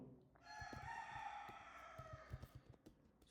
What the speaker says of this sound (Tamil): இந்த கோழிக்கு என்ன தான் பிரச்சனை தெரியல.